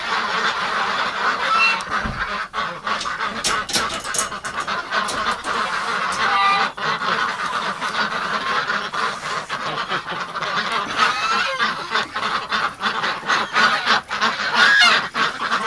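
A crowd of Muscovy ducks in a shed honks and quacks continuously at close range in winter cold, their calls overlapping in a busy, steady chorus.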